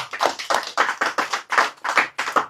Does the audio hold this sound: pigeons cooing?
no